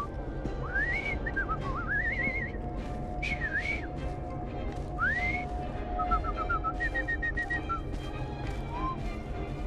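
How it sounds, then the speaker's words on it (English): A game character whistles a rising, sliding tune in Assassin's Creed Syndicate, with several short swooping phrases and a run of quick repeated notes over a steady background hum. "I've just learned to whistle."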